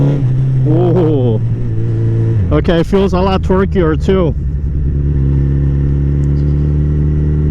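A Suzuki Hayabusa with a Leo Vince slip-on exhaust and catalytic converter blips its throttle in a quick run of loud, close revs over a steady idle, with someone talking over parts of it.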